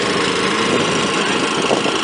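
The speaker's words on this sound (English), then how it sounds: "We've got 4 pumps going into it." Four water pumps fill an 8-foot-high, 160-foot-long AquaDam at Caples Lake, California, producing a steady, loud engine drone with a constant vibrating rumble.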